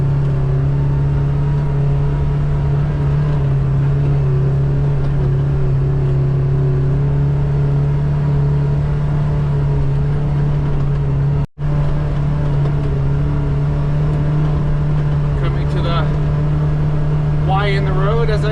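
2024 Kawasaki Ridge XR side-by-side engine running steadily at about 4,200 RPM while crawling at low speed, a constant loud drone with a strong low hum throughout and a brief dropout near the middle.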